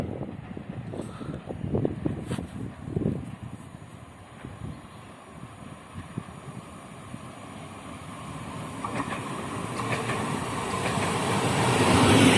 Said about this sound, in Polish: Wjeżdża pociąg Regio relacji Szczecin Główny Świnoujście